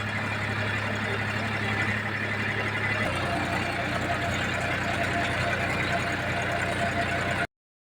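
Tractor engine running in a farm field, a steady low mechanical drone that continues throughout, its tone shifting slightly partway through, with a voice speaking over it.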